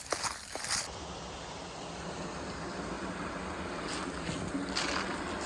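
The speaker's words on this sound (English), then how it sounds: "A lot of water moving too." A swollen creek rushes steadily in a broad, continuous wash of flowing water, close and fairly loud with wind buffeting the microphone.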